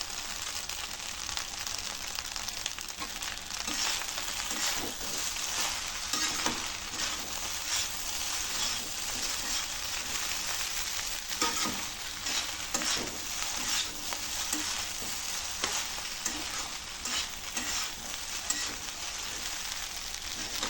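Egg fried rice with coriander leaves is stirred and tossed in a pan, a continuous hissing sizzle with repeated scraping spatula strokes, close and steady throughout, with no voices.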